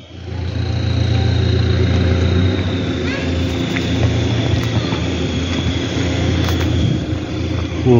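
Cars move steadily near a senior high school in Samarinda on a Friday around midday prayer time, a continuous close engine hum and rumble that swells and fades slightly.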